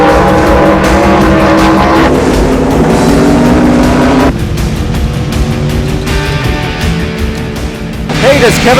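NASCAR stock cars race at full speed in the Southern 500. Loud, close engines roar continuously with shifting pitch as the cars pass, rising to a louder surge at the end.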